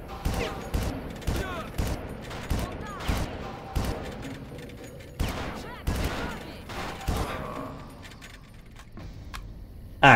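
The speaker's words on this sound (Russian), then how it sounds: "А, я думаю, кто-то еще стреляет" Gunfire in the video game Far Cry: a series of sharp, loud shots in a rough rhythm, with metallic clinks and ringing tails between them, tapering off into quieter ambience near the end.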